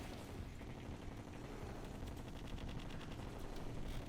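Rapid gunfire from a weapon in Terraria, a dense run of quick repeated shots close and loud, filling the clip on its own.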